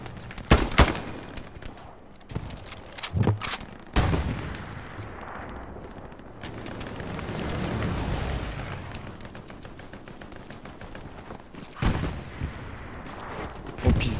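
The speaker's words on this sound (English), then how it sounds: "Machine gun behind us." Gunfire in an online multiplayer shooter match, with bursts of sharp shots early and near the end and a dense rumble of distant firing and battle noise between them, fairly quiet overall.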